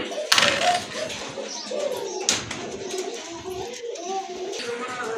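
Pure white satin pigeons coo in soft, low rolling calls close by, with someone talking over them and a few sharp taps and rustles in between.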